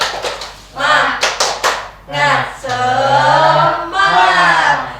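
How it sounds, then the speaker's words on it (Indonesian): A classroom of children chant the 'tepuk semangat' spirit cheer, with a few quick sharp hand claps followed by loud, drawn-out voiced shouts rising and falling together, close and energetic. "Tepuk semangat."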